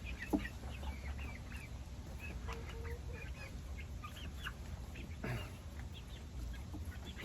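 A light Brahma hen clucks softly and repeatedly at close range, with a low steady background hum and no talking.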